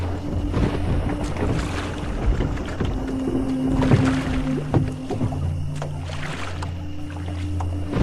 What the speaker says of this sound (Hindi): बलबीर तेज तेज चप्पू चलाने लगा और नाव आगे बढ़ने लगी